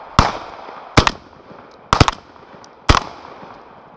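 Four sharp, loud shotgun blasts ring out at roughly one-second intervals, each a sudden crack followed by a short fading echo in open air.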